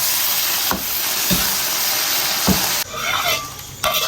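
Seasonings and star anise stir-fried in hot oil in a wok, a loud steady sizzle broken by a few sharp spatula scrapes and brief quieter gaps, no talking.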